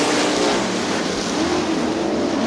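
Sprint cars on a dirt track at Crystal Motor Speedway roar together as the packed field hits the gas at the start, a loud sustained engine blare with steady intensity throughout.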